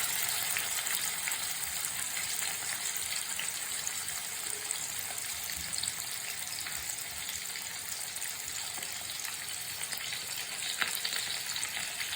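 Avoli (pomfret) fish fry in hot oil with masala, giving a steady, fairly quiet sizzle and crackle throughout, no talking heard.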